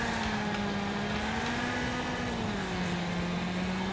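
Car engine in the racing game Wreckfest, a continuous loud buzzing drone whose pitch holds, dips and levels off, steady and unbroken throughout.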